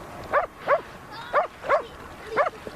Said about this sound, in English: here's the dog snapping at another dog because the dog's been barking at him for how many minutes now